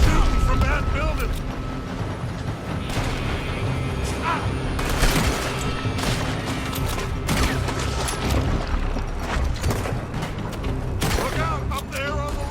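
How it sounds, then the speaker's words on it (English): Repeated gunfire in Red Dead Redemption 2 as enemies shoot from a building, with sharp shots and bursts scattered throughout amid a busy, loud battle, and voices talking over it. "They're shooting from that building."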